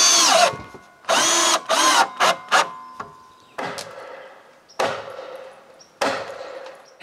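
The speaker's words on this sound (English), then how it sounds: "For good measure, I also screw it." Power drill driving a screw into a wooden dock post while rebuilding a cottage dock, loud and close, with several short whirring bursts and pauses followed by longer runs as the screw seats.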